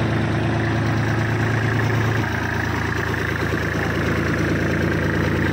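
A Kubota 34 horsepower tractor engine idles steadily up close, a continuous low rumbling drone with an even mechanical knock and no talking.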